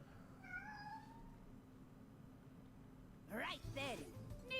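A female house cat meows in the background behind a game commentary, with a couple of faint harmonic calls early on and two louder, rising-falling meows near the end over steady room hum.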